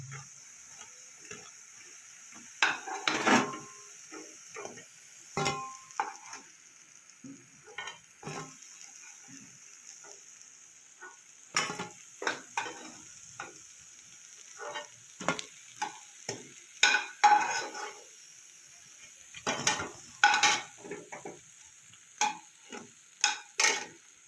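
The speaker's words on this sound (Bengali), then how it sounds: "বড়াগুলো আমার ভাজা হয়ে গেছে এবার আমি একে একে তুলে নেবো" Masoor dal fritters fry in hot oil with a quiet, steady sizzle, broken by irregular clinks and scrapes of a utensil as the pieces are lifted out one by one, no talking.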